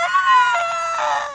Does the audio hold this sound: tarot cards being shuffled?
no